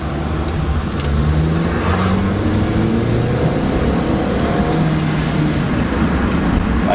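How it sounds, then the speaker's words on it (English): Turbocharged car accelerating hard at high revs, a loud, steady engine drone with rising harmonics held throughout, heard close from inside with no talk. "when you're basically just accelerating fully. You're pushing some sort of higher revs."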